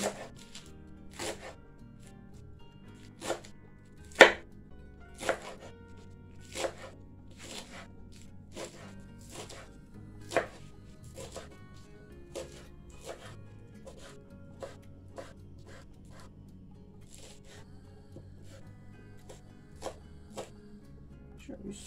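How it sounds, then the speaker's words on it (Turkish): Knife chopping fresh spinach finely on a board, a steady run of sharp, close taps with brief pauses and rustling between strokes, fairly quiet overall. "Bunu ince ince önce kesiyoruz."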